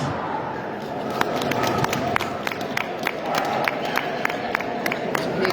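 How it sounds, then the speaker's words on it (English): A crowd at a terrier Best in Show claps for the puppies, sharp individual claps scattered over a continuous murmur of voices in a large hall. "Let's hear some claps."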